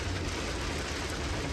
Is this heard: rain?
yes